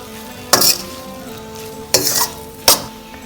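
Deviled soya meat with tomato being stir-fried in a pan: three sharp scraping stirs of a utensil against the pan over a low steady sizzle, close and clear.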